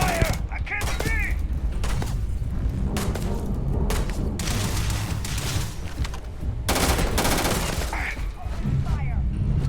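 Sci-fi firearms blaze in Starfield combat: dense bursts of rapid automatic fire and single heavy shots crack loudly and repeatedly across the whole stretch, with thuds and booming impacts, and a voice comes through in between.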